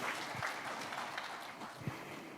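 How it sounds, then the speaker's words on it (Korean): Applause at a university president's inauguration ceremony in Daegu, a soft, steady wash of clapping from a seated audience heard at a distance in a large hall. "큰 박수 부탁드리겠습니다"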